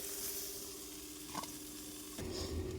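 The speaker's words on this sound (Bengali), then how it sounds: "অল্প একটু সময়ের জন্য নেড়ে চেড়ে ভেজে নেব হালকা একটু লাল লাল হয়ে গেলেই ভাজা হয়ে যাবে বেগুনগুলো" Eggplant pieces sizzle steadily in hot oil in a pan, a continuous close frying hiss with a brief stirring scrape partway through and a louder burst of sizzling near the end.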